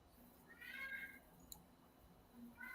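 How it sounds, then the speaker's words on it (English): A cat meows faintly in the distance, likely outdoors, giving a couple of thin drawn-out cries beneath low background noise. "Did I hear a cat in the background?"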